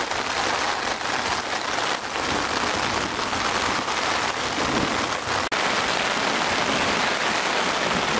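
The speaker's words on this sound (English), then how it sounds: "Look, there's hail now." Hail falls hard on a tarp outdoors, a dense, loud, continuous patter of drumming impacts with no voices.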